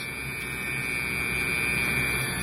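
A Dremel rotary tool runs at about 10,000 to 15,000 RPM while drilling, producing a steady, unbroken high whine with a constant hum beneath it, close and moderately loud, with nobody speaking.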